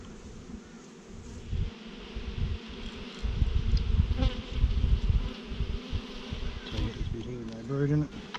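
Bees from a wild colony being cut out of a hollow log buzz steadily and densely up close, the droning swarm rising and falling in loudness throughout with no talking.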